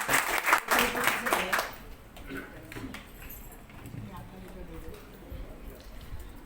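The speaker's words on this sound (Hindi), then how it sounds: "जोरदार तालियां" Applause at a senior citizens' group dance-drama performance, loud dense clapping for the first couple of seconds, then fading into scattered claps and murmuring voices.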